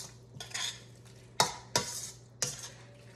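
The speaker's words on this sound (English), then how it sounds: "I'm gonna stir that around." Seasoned food stirred in a pot with a utensil: a few soft scraping swirls followed by three sharp metallic clinks of the spoon against the pot, close and alone.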